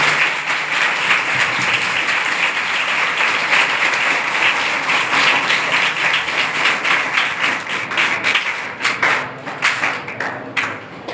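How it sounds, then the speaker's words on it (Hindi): Loud, sustained clapping from a crowd fills the hall after a speech at a higher secondary school, then thins into scattered claps near the end. "ताली बहुत अच्छी लगी आप लोगों की, इतना जोर से बजाए।"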